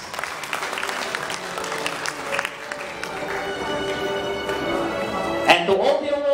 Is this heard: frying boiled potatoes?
no